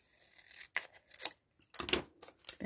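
Scissors snip through sticky tape or adhesive paper during an envelope craft, four short crisp cuts close and clear with quiet pauses between, no talking.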